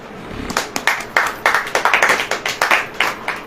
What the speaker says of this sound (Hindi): ताली बजेगी क्यों नहीं?